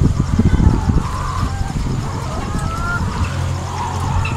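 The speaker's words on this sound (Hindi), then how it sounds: "ये आप देख सकते हैं सारी मुर्गियां जो हैं वो केज के अंदर बंद हैं" Caged laying hens on a poultry farm give off a dense, continuous flock murmur of clucks and squawks, fairly close and steady, with low background machinery hum throughout.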